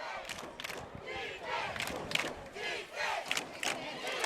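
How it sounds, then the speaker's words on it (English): Crowd at a high school football game shouts and cheers loudly in repeated bursts, with a commentator speaking over the din. "This crowd is fired up."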